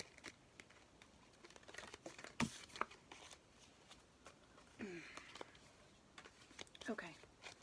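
Tarot cards shuffled by hand in a quiet room: soft crinkly riffles and brief card slaps, a few sharper taps and whispery rustles at irregular moments, close and faint.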